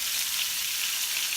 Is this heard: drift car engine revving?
no